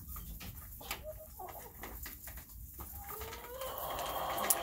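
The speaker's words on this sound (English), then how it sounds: "You can sure hear those roosters, those baby roosters." Young roosters crow in rough, throaty calls over constant clucking and farmyard chatter, some near and some farther off.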